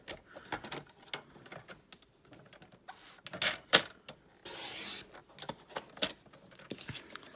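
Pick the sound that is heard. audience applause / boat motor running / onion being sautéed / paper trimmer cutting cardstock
paper trimmer cutting cardstock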